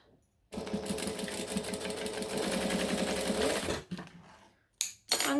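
A sewing machine stitches the sides of a folded fabric piece in a fast, steady whirring run lasting a few seconds, then stops with a couple of short bursts and clicks afterward.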